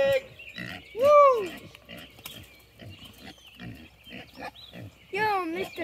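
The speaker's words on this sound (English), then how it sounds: "Yo, Mr. Pig! You're so handsome" Hungry farm pigs at a feeding area behind an electric fence, close and loud, giving repeated grunts and snorts along with a few high squeals, while a person talks over them.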